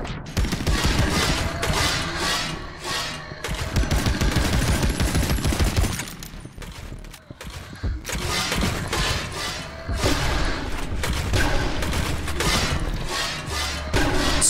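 Dense gunfire and shotgun blasts in the El Paso, Elsewhere video game: loud, close volleys of rapid shots and heavy booms fill the stretch, with a short lull in the middle before the firing resumes.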